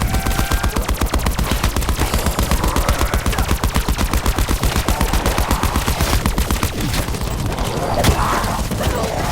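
Call of Duty Black Ops 4 firing squad: a long continuous run of rapid automatic gunshots, loud and evenly spaced, with a few heavier thuds late in the burst.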